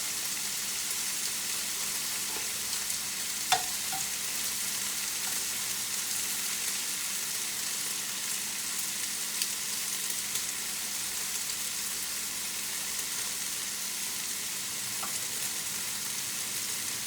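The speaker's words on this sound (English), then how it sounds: "get the meat browned on all sides" Pork chunks browning in a hot pan give a steady, quiet sizzle and fry hiss throughout, with an occasional faint tap or scrape from stirring.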